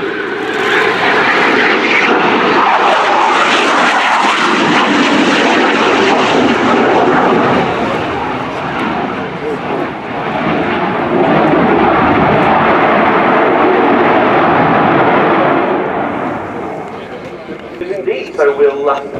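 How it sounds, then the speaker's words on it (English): Spanish Air Force Eurofighter EF-2000 (C.16) Typhoon making a final wing-rocking pass at an air display, a loud sustained jet roar swelling and fading over nearly twenty seconds, with a commentator's voice running beneath it. "Final wing rocking pass then from the Spanish Air Force Eurofighter C-16 Typhoon."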